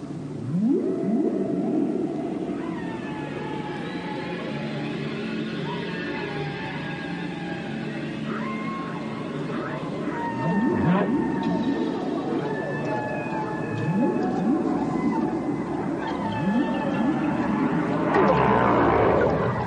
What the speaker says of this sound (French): Baleine à bosse, baleine franche, baleine bleue, y croisent les dauphins et la tortue géante